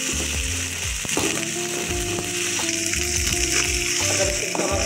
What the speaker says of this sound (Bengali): আদা রসুন বাটাটাকে আমি একটু ভেজে নেব